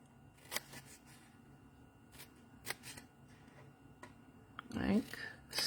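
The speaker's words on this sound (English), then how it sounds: "You're going to cut at the score line." Scissors cut cardstock along a score line for a paper craft project, making faint crisp snips and a few light clicks, then a louder rustle of paper near the end.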